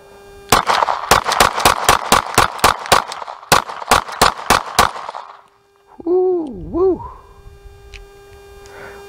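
Rapid string of about a dozen sharp, loud gunshots from a 9 mm firearm fitted with a 17-round extended magazine, fired in quick even succession with a short pause midway, then a brief hooting tonal sound after the volley.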